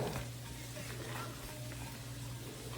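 Barbecue sauce for boneless wings being stirred in a container, a soft steady scraping and swishing close by, quiet and continuous with no talk.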